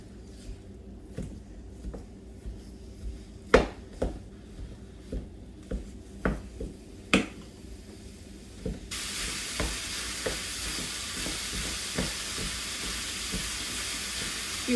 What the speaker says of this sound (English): I've just got a pound of an 85/15 ground beef. And we're just gonna cook this until all the meat is cooked.